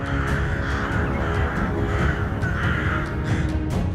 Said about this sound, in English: When a crow appears, it triggers a state of alertness in the vicinity.